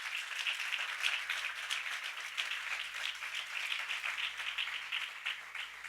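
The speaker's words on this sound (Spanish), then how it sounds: "¿Cuántos dicen amén y le dan un aplauso a Jesús?" A church congregation applauds for Jesus during a Spanish-language sermon: steady, dense clapping from many hands sustained evenly for several seconds, moderately distant and without speech.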